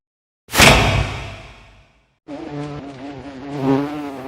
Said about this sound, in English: You know, it really sounds like a wasp.